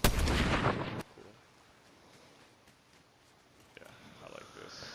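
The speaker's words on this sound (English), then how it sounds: "shooting from the mountain" Gunfire from a mountain position in a video game: a loud, dense burst of shots fills the first second, then drops to a quieter background with a few scattered faint cracks near the end.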